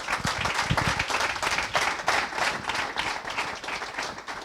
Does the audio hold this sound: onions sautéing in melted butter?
no